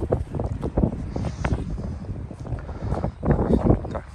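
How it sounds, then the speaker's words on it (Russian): Strong wind buffets the microphone outdoors in the Netherlands, producing loud, rumbling gusts that surge and ease continuously throughout. "потому что ветер сильный"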